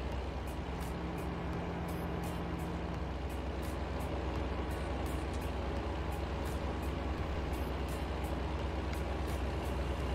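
A truck engine drones steadily in American Truck Simulator, a constant low rumble with a faint repeating high tick over it, held at even volume throughout.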